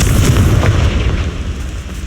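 A Confringo fire spell detonates in Hogwarts Legacy, a loud booming blast with a rumbling low-end tail that fades over about two seconds, with no talking.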